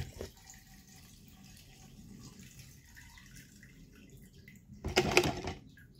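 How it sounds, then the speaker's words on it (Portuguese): Fuel from a car's fuel pump being tested pours into a cup, a faint trickle that grows into a louder splashing gush near the end, with no speech. "Ele vai encher o copo novamente."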